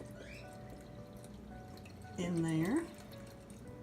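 Cold water poured into a blender container for making homemade sweet cream butter, a short splashing pour of under a second, close and moderately loud, with a person talking before and after it.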